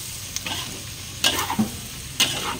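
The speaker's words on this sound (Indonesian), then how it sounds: "Ini kita aduk juga lagi. Kita aduk lagi sampai wangi." A spatula stirring a Chinese stir-fry with bok choy in a hot pan, soft steady sizzling broken by a few sharp scraping strokes, close and fairly quiet with no talk.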